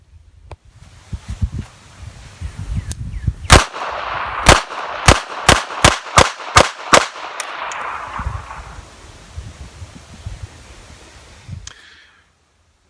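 Beretta 3032 Tomcat pistol firing .32 ACP rounds outdoors, about nine sharp, loud shots in a quick, slightly uneven string, with quieter rustling and handling noise before and after.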